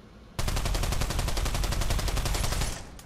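PP-Bizon submachine gun in the Pavlov VR shooter fires one long, loud, sustained burst of rapid, evenly spaced shots lasting over two seconds, with no talking.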